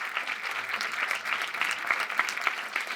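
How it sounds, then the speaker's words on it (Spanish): A crowd of women in a hall of the National Congress applauds, dense continuous clapping with sharp individual claps standing out near the microphone, filling the short span without pause. "pido un aplauso bien fuerte para todas las compañeras que están acá"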